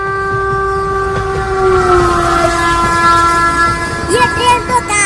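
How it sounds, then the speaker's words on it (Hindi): A train pulls into a station, its long horn sounding steadily throughout with rising wheel and carriage rumble beneath, ending in a few brief squeals as it slows near the platform. "ट्रेन आ रही है"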